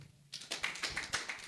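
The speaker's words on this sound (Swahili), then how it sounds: "Okay, wapi makofi yake?" Scattered hand claps from a small seated group in a university poetry circle, a few sharp claps in a loose, uneven rhythm, close and fairly soft.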